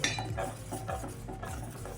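A spoon stirs boiled milk with lemon juice in a pot as it curdles, giving a continuous light scraping and occasional faint clinks against the pan, close and fairly quiet.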